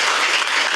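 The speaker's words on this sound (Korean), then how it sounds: "두 분 박수를 보내드리겠습니다." Brief burst of applause from an audience at a Korean book talk, a dense even patter of clapping at moderate volume with no talk over it.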